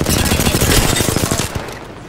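Loud rapid automatic gunfire in the Apex Legends shooter: a dense stream of close shots fires in quick succession, then thins slightly toward the end, with no voices over it.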